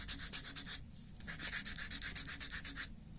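A rust pit is rubbed off a rifle barrel under concentrated pressure during metal prep, producing rapid back-and-forth abrasive strokes in two steady bursts separated by a brief pause.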